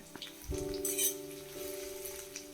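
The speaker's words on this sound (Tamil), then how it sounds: "கடுகு சோம்பு சேர்த்து இது பொரிஞ்ச பிறகு இரநூறு கிராம் சின்ன வெங்காயம் நறுக்கி அதோடு சேர்த்துக்கலாம்" Mustard and fennel seeds with shallots frying in a pan while making a prawn and mango gravy, a soft crackling sizzle with a faint steady tone underneath and brief clinks, close and fairly quiet.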